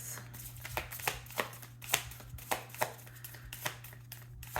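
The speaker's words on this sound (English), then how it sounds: "one more shuffle, and I will take a card off top" Tarot cards shuffled by hand, a run of soft papery riffles and taps repeating roughly every half second, close and fairly quiet over a steady low hum, with no talking.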